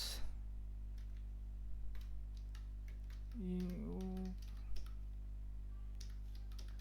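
Someone types a product name on a computer keyboard. Light, scattered key clicks sit over a steady low hum, with a short tonal warble midway.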